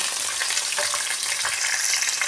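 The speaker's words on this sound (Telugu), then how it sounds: "ఆనియన్స్ మిర్చి చక్కగా ఫ్రై చేసుకుందాం" Onions and green chillies fry in hot oil for an eggplant and potato curry, giving a steady, dense sizzle with faint stirring scrapes and no voices.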